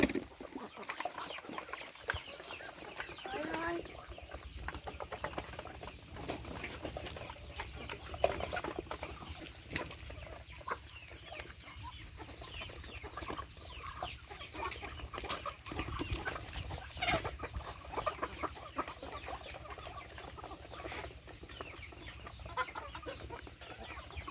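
Chickens cluck and murmur steadily throughout, with scattered sharper calls over a constant farmyard background hum; no talking.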